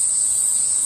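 Cicadas shrill in a continuous, loud, high-pitched drone with no breaks, the sound holding steady throughout.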